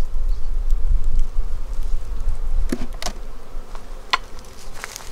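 Honey bees buzz densely inside an open hive in 25-degree cold, a close, continuous low drone with a few sharper knocks and rustles.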